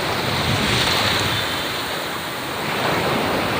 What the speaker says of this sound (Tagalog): Kaya tignan mga alon ng malalaki.